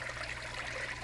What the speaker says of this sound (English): the pumping system carries the water up, spilling it down through the plants and their root system